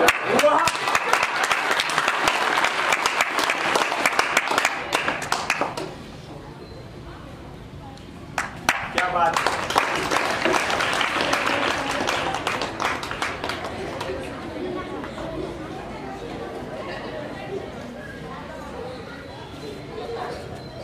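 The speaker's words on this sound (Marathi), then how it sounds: "टाळ्यांचा गजर थांबू नये शेवटपर्यंत टाळ्या थांबू नका प्लीज" Audience applause at a stage performance: a dense, loud crowd clapping, a brief lull, then another long burst of clapping that slowly thins toward the end, with some crowd chatter mixed in.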